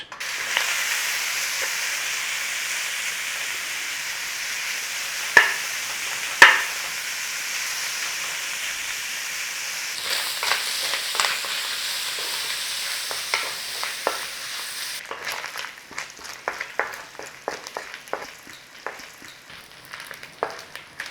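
Bacon fries and crisps in a pan with a continuous close sizzle and hiss. Occasional sharp taps and spatters punctuate it, and turning and stirring sounds appear toward the end, with no voices.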